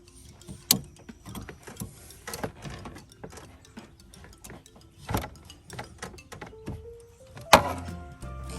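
A ratchet clicks in short bursts as it loosens a fitting during a water pump replacement on a Suburban, with clanks and knocks of tools and parts, one louder metallic bang near the end, and no talking.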